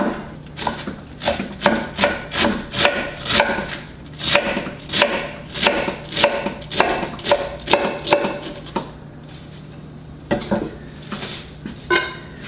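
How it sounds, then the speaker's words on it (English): A knife chops cabbage repeatedly on a cutting board in quick rhythmic strokes, near and crisp, pausing briefly before a few final chops. "just keep chopping kind of against the leaves here"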